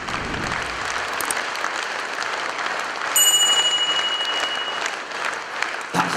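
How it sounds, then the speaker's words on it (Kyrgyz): Sustained, dense applause from a concert audience in a philharmonic hall, steady clapping throughout with a brief high ringing tone partway through. "Келген коноктор тынбай эле кол чабып аткан имиш."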